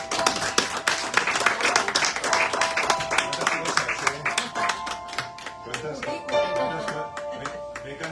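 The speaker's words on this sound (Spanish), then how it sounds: "Un aplauso para Marcos de la Fuente" A crowd claps for a poet at the Bowery Poetry Club in Manhattan, a burst of applause with distinct individual hand claps, tapering off toward the end, with some voices mixed in.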